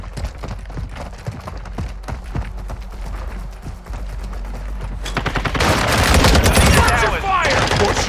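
Gunfire in Call of Duty Modern Warfare 2, with sharp repeated shots giving way to a loud, dense automatic barrage that swells in the last few seconds.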